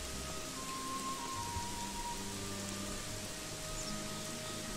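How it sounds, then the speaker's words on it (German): Steady rain falls in the video game Gothic 3, a constant hiss of drops with faint low tones beneath, with no talk over it. "Hat jetzt noch mehr angefangen zu regnen."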